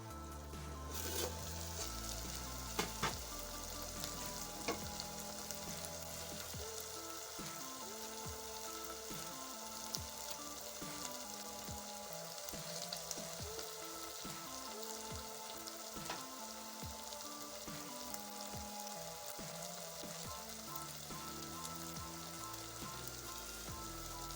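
Beef cubes with chili sizzling and frying in a cooking pot while matoke is prepared, a steady crackling hiss that runs through the whole stretch under a constant background tone.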